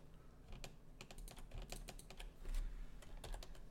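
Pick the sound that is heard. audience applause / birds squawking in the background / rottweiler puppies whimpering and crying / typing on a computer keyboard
typing on a computer keyboard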